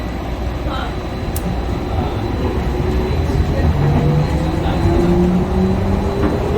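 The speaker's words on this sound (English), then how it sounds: "Please hold on. This train is departing." The Skylink people mover train at Dallas-Fort Worth Airport departs, rumbling steadily close by, a dense low roar building slightly with faint whining tones rising over it.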